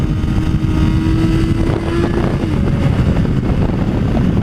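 A motorcycle engine roars steadily as the bike pulls onto a freeway, a loud, close, continuous drone with wind buffeting over it and a rising tone partway through.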